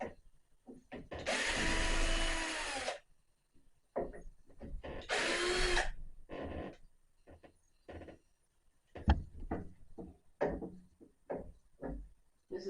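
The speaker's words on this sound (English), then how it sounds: "So I need to get these screws out first." A power drill backs screws out of bathroom door framing in two strong, close whirring bursts, the first about two seconds long and the second shorter, separated and followed by clicks, knocks and handling noises.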